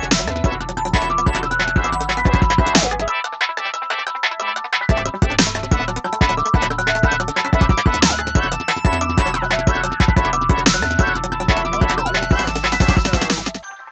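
Dense electronic music plays loud and continuous with heavy bass beats, briefly dropping out the low end before the full mix returns.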